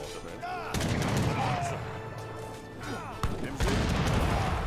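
Cannon fire during an Age of Empires III: Definitive Edition battle, a few heavy booms and crashes over a dense, continuous roar of in-game combat, with someone talking now and then.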